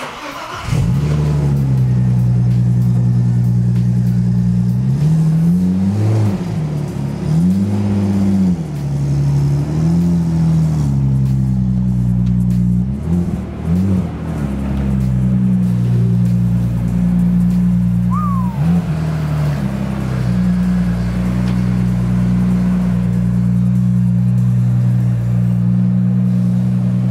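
An Audi RS4 B5 drives away, its engine rumbling close and loud throughout, with a few brief revs rising and falling early on before it settles into a steady drone.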